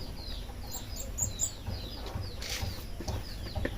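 Rapid high chirps and peeps from small alimokon chicks repeat throughout, close by, over a low rustling background with faint clucking.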